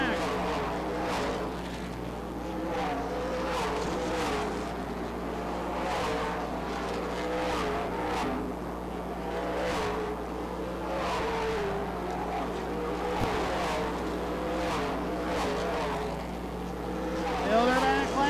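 Race cars lapping at Rockford Speedway during the Spring Classic, with a constant engine roar and surging passes, all under continuous announcer commentary.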